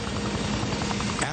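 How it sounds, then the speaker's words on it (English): A Coast Guard rescue helicopter hovers during a hoist rescue of a sailboat crew at sea, giving a steady, loud, continuous rotor and engine roar throughout. "One by one, Moore gets each of the Satori crew into the basket and onto the helicopter"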